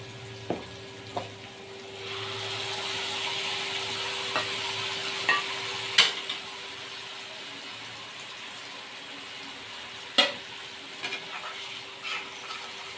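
Onion paste frying and being stirred in hot oil for a fish fry, a steady soft sizzle with scattered scraping clicks of the spoon against the pan, moderately near and without talk.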